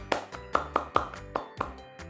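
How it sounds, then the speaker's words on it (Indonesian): A handful of scattered, uneven claps, fairly quiet and sparse, like a small class applauding briefly after a student reads a short story aloud. "tepuk tangan dan beri apresiasi kepada Upi."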